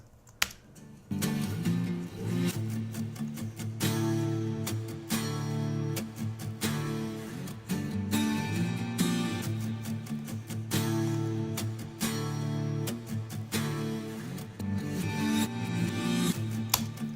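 Reversed acoustic guitar chords swell and cut off sharply in a repeating rhythm, with percussive clicks and a steady low backing.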